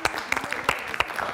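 A small studio group applauds briefly, a short burst of scattered, close handclaps with distinct individual slaps rather than a dense roar.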